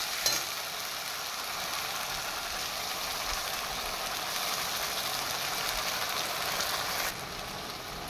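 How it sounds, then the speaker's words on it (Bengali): Ginger, onion, garlic and green chili paste frying in a pan, a loud, steady crackling sizzle that holds evenly throughout, with a brief stir noise at the start and a slight drop near the end. "এবার দিয়ে দেওয়া হলো আদা পেঁয়াজ আর রসুন আর 2-3টে কাঁচা লঙ্কা পেস্ট।"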